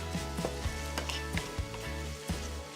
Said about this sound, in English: Okay, the onions are starting to fry up.